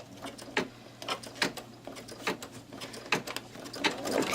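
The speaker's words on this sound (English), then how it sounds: "the first stitch is just going to show me my outline" An embroidery machine stitches an applique outline with red thread on tearaway stabilizer, making a quick rhythmic series of sharp needle taps over a low steady motor hum, close and moderately loud.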